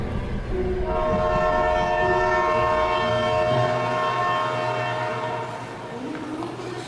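Train pulling into a station, a loud steady rumble with a long sustained horn-like tone over the rolling wagons, fading slightly toward the end, with no talk.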